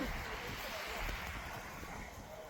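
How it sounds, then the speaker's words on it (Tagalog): Wind blows outdoors, a steady broadband rush and buffeting against the microphone, constant and fairly close for a few seconds. "Mahangin sa labas."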